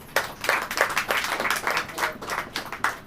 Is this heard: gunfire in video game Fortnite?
no